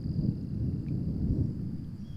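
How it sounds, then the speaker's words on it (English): Distant thunder rumbles low and faint during a storm on the Oswegatchie River, a steady muffled roll with no sharp cracks and no voices. "I can hear thunder over there in the distance."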